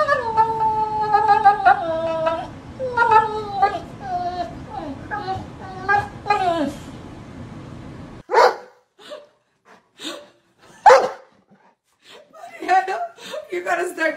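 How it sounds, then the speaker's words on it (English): A dog playing with a toy on the edge of furniture whines in rising and falling tones, then lets out several sharp, loud barks spaced apart after a short pause. "does anyone else's dog have to play with their toy, like, right on the edge of all furniture"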